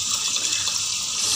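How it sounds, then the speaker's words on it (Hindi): Water pours steadily into washed rice in a pressure cooker, a close, continuous hissing splash with no break and no talking. "अभी हम इसमें पानी डालेंगे।"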